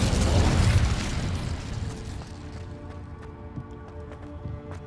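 An Incendio fire spell goes off in Hogwarts Legacy with a loud, booming burst of flame that rolls and decays over a few seconds. Scattered small clicks and pops follow.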